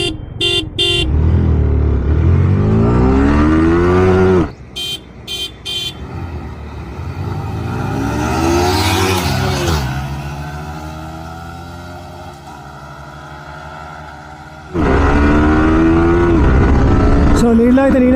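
Yamaha R15M motorcycles, a 2024 and a 2022 model, roar through a drag race, their engines climbing in repeated rising sweeps as they accelerate hard. The engine noise stays loud and close throughout, with a brief lull midway and a voice talking over parts of it.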